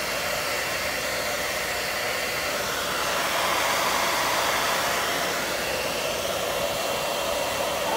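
A hair dryer blows steadily on a chihuahua after its bath, a loud, even whooshing hum with a slight swell in the middle and no talking.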